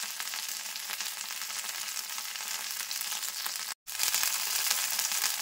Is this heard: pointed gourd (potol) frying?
yes